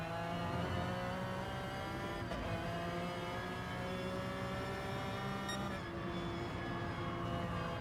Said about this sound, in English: Beautiful sound from the McLaren.